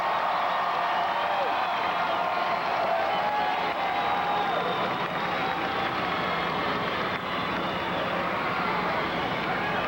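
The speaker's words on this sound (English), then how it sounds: "Let's give them another cheer." A large outdoor crowd cheers at the 1992 Chicago Bulls NBA championship rally, a steady, sustained roar of many voices heard at a distance, with faint rising shouts over the constant wash.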